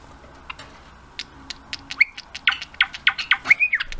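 A pet bird chirps and squawks indoors, sparse at first, then a rapid run of sharp, close calls growing denser and louder toward the end.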